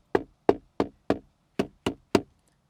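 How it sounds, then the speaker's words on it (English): Seven sharp, hollow knocks on the plastic centre console of a 2020 Shelby GT500, struck at a steady, roughly even pace, close and alone, with quiet gaps between each rap. "this entire center console, if I knock on it,"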